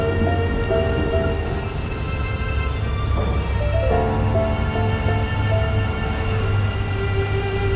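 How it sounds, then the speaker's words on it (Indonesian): Dense, continuous heavy rain hisses and roars without a break, with a steady tonal drone running underneath. "Hujan tiba-tiba turun dengan teramat lebatnya."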